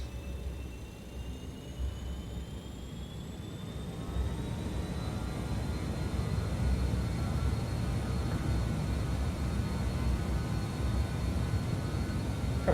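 Simulated BAe 146 jet engines spooling up for takeoff in a flight simulator: a thin whine rises gradually while a low rumbling roar builds and then holds steady, fairly quiet overall.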